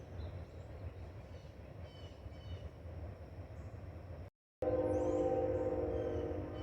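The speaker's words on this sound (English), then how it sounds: "Not sure if you heard that train whistle, but I could hear it clearly." A train runs along a nearby track, a steady low rumble throughout, then after a brief gap a sustained horn-like whistle tone comes in loud and close.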